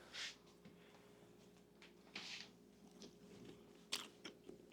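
Someone bites into and chews a homemade crunchwrap supreme, giving several soft, crisp crunches spread over a few seconds and heard up close at low volume.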